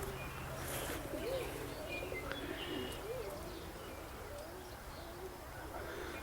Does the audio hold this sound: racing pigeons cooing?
yes